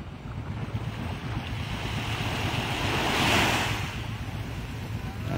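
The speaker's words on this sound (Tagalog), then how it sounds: "Nandito kami sa dalampasigan ng dagat-dagat." Ocean waves wash onto a beach in Ternate, Cavite, a continuous broad rush of surf that swells louder mid-way, with gusty wind buffeting the microphone throughout.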